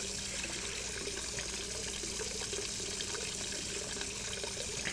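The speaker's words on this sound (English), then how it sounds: "Now what we're going to do is we're going to fill up a water dispenser tool." In the video game Hello Neighbor, a water dispenser tool fills with a steady, dense rush of running water that holds even and continuous throughout.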